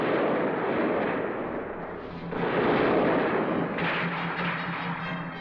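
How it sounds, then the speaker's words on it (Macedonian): Dense gunfire from a battle scene in the Macedonian war film Republikata vo plamen, a loud continuous barrage of shots and booming blasts that swells midway and holds steady to the end, with no voices. "Пак пука, дедо."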